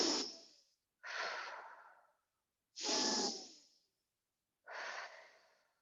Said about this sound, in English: In and out with your breath.